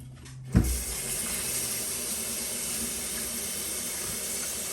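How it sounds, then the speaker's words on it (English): Strawberries and raspberries are rinsed under a running kitchen tap: a brief clunk, then a steady, close rush of water streaming without pause. "Give these a rinse."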